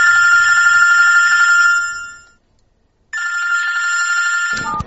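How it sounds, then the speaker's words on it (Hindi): Electronic telephone ringing at night in an empty house, a loud warbling ring that fades out into silence, then a second ring burst begins abruptly and continues. "उस रात सिमरन घर में अकेली थी और फोन बज उठा।"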